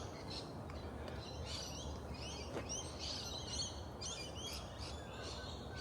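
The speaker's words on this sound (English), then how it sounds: "gives me a little buzz when I hear the birds singing in the morning." Several birds chirp and sing in quick, high twittering bursts through a quiet morning walk, fairly distant over a steady outdoor background hiss.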